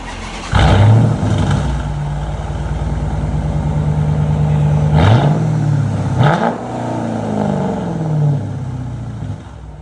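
A 2012 Dodge Challenger R/T with a 5.7 HEMI V8 and straight pipes revs up loud and close from idle, falls back to a rumbling idle, then blips the throttle twice more with deep, raspy exhaust roars.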